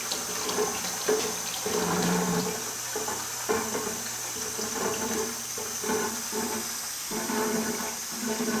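Clear water running from a tank tube into a bucket during a mineral extraction setup, a steady splashing pour with a gurgling, bubbling texture, continuous and fairly close, with no voices.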